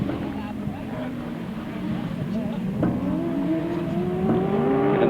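A grasstrack sidecar motorcycle revs hard out of a corner at a 2010 grasstrack meeting, its engine note climbing steadily and growing louder, with a commentator's voice running over it.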